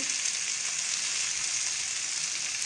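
Sangara fish frying in a pan gives off a steady, dense hiss of sizzling oil, close and continuous with no break.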